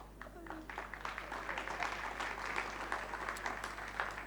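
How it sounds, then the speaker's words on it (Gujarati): An audience at a spoken talk breaks into clapping, a dense patter of many hands that holds steady for several seconds, heard from a little distance over a constant low hum. "જોરથી તાળી પાડી લેવી ક્યારેક"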